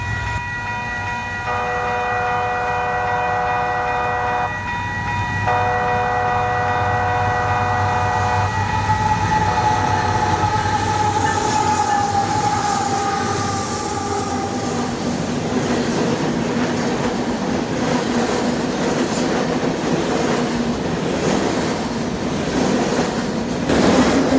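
A train rolls past on a Texas rail line, heading toward Smithers Lake. A steady horn tone sounds through the first half, then the rumble and rail clatter build loudly as the cars pass close.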